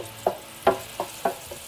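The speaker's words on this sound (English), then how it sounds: "Whoa, that's frying oil." Oil crackles in a pan while rendang is made, a handful of short, close pops and spits spaced irregularly over a quiet background.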